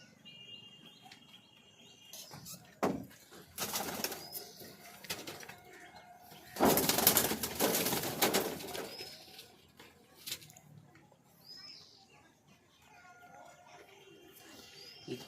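Pigeons coo and shuffle nearby, with bursts of wing flapping and rustling, and insects chirring faintly in the background.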